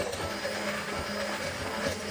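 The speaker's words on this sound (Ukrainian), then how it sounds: "Попередньо розігріте пюре грейпфрута, додаємо ганаш, а також алкоголь збиваємо блендер" Blender whirring through warmed grapefruit puree mixed with chocolate ganache and alcohol, a steady close motor drone with a busy, rattling texture that holds throughout with no talking.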